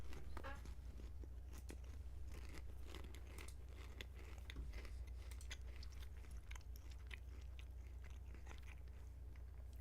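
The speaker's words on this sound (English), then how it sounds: "Sorry if you can hear me munching." Someone munches food close to the microphone, soft irregular crunchy bites and chewing over a constant low hum, with no speech.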